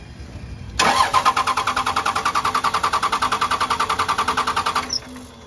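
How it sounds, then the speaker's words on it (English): A second-generation Cummins diesel engine cranks over on the starter without catching, a steady rapid rhythmic chugging that runs for about four seconds and then stops, close and fairly loud. "We're gonna keep cranking until you get fuel."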